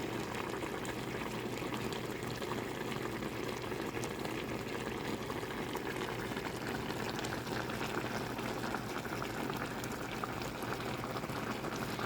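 Steady bubbling and simmering of a pot of tilapia stew (pangat) on the boil, continuous and close, with no talking.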